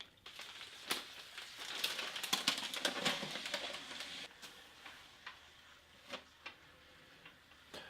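A Portuguese Navy 24-hour ration meal heater sizzles and fizzes quietly, with a burst of crackling hiss followed by scattered faint ticks and pops.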